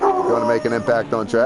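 A pet dog barks and yips in quick, loud bursts, with howling, whimpering tones between them, while someone talks over it in a Gran Turismo 5 race broadcast.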